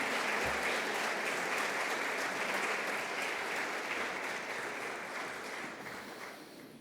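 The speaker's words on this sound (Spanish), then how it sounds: "Demos un aplauso a nuestros deportistas." Audience applause for athletes at a university opening ceremony, broad steady clapping from a large crowd that gradually fades toward the end.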